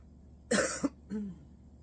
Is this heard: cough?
yes